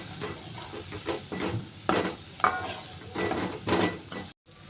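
Ginger, coconut and garlic paste fries and is stirred in a pan, giving a low sizzle broken by repeated scraping strokes of a spatula, with one brief silent gap near the end.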